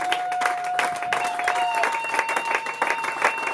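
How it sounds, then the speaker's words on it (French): A church congregation breaking into sustained applause, dense overlapping clapping with a few sustained tones from an instrument or voices underneath throughout. "Come on, put those hands together for her."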